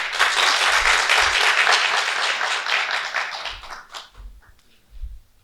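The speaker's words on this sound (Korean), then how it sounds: "박수로 맞아주십시오" An audience at a conference applauds to welcome a speaker, a nursing-home director, to the stage: a dense, steady burst of clapping that fades after about four seconds into a few scattered claps.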